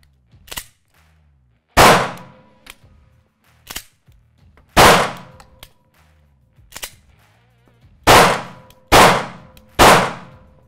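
Gunshots ring out at shooting practice aimed at a chest target: loud sharp cracks, some near and some softer, irregularly spaced, with the last three fired in quick succession, each with a short decaying tail.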